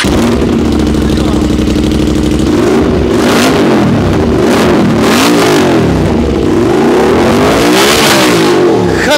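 An Aprilia RS 457 motorcycle with a full-system aftermarket exhaust revs hard and loud, its throaty exhaust rising and falling in repeated blips and sustained roars close by.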